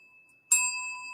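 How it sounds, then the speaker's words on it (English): A single bright bell ding rings out sharply after a moment of near silence, then its clear tone sustains and slowly fades. "You get a bell for that."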